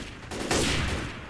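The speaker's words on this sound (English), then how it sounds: "I got a freaking hunting rifle" A burst of hunting rifle fire in the zombie shooter Left 4 Dead 2, a loud close crack smearing into a brief rumbling roar.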